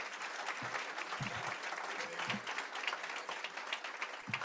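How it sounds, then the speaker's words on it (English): Steady applause from a conference audience at a Greater Fort Lauderdale business launch event, dense clapping filling the room at moderate level with no talk over it. "Let's give him another round of applause."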